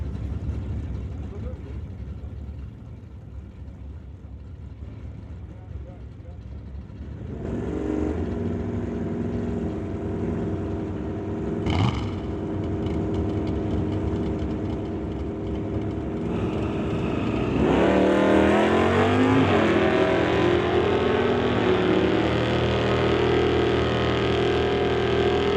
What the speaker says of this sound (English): Dave Jung hopping back in his old Malibu to race Cade Shirk, the GMC Jimmy to race the Malibu.